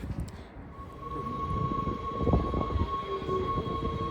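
Inside a moving double-decker train in the Netherlands: a steady rumbling rattle with a constant high electric whine, the clatter swelling and easing as the carriage rolls along.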